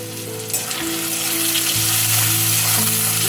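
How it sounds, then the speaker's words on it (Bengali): Spice masala with salt, turmeric and red chilli powder sizzles loudly as it is sautéed in a pan over low flame, a continuous close frying hiss with faint stirring and no voices. "গ্যাসের ফ্লেমটা লোতে রেখে ভালোভাবে এটা কষিয়ে নেব"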